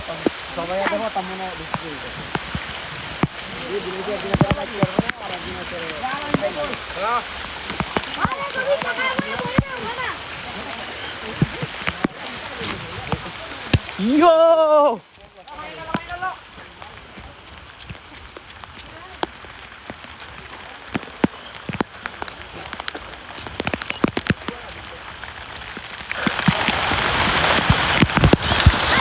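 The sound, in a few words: rain falling outdoors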